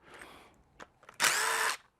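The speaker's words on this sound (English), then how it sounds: "thank goodness for power drills" A power drill driving screws into aluminum parts of a heavy machinery brake shoe welding fixture, with a couple of short whirs building to a loud, steady whine of about half a second before stopping.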